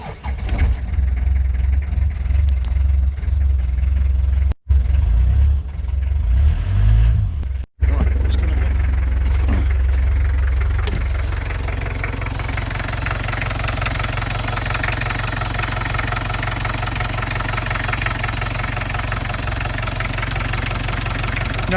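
A 1988 Land Rover 2.5-litre naturally aspirated diesel engine cranks, cuts out twice, then catches and settles into a steady, rattling idle that continues evenly to the end, with no rear exhaust section fitted.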